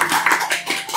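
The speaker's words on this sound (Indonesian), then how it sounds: "Tepuk tangannya dong." Brief hand clapping from a small audience at a creative dialogue event on art and architectural design, a few uneven claps repeating over about a second, fairly close and without talk.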